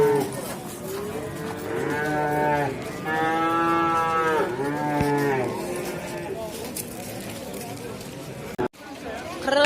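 At an outdoor cattle market in Andijan, a cow lets out several long, loud, close moos in succession, with the murmur of a crowd and chatter beneath.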